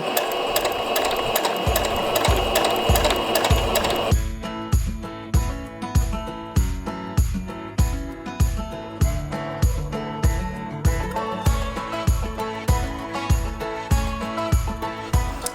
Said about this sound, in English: I'm going to make sure that the opening in the foot lines up to that line. And I'm going to sew.